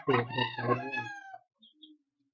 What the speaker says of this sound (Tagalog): Yung mga manok ko yan, mga babae.